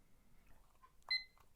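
A timer being set gives two short, sharp electronic beeps close by, one partway through and one at the very end, after a quiet stretch of soft household background.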